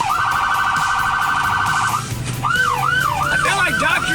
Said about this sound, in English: You can turn on the siren.